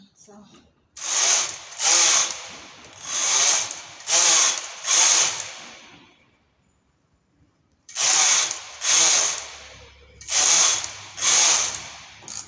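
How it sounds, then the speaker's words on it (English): A punch card knitting machine knitting rows for a skirt rib, its carriage swept back and forth in loud ratcheting, clattering passes of about a second each, with a quiet pause partway through and no talking. "I'll knit 12 rows"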